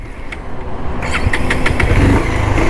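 A Bajaj Pulsar 220F motorcycle engine pulls away in first gear, a loud close engine note rising from a steady idle into a stronger throaty rev, with no talking.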